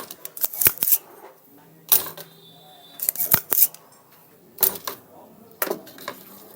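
A capacitor being pried out of a flashlight circuit board, heard as sharp, close clicks and snips of a small tool in irregular bursts, loud against a quiet background.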